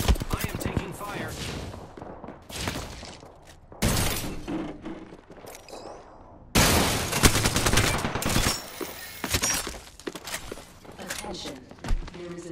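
Video game gunfire crackles in sharp bursts and sustained rapid volleys, loud and close, with quieter footsteps and scuffles between the salvos.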